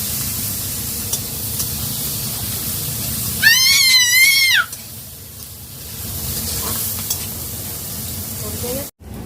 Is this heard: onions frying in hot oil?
yes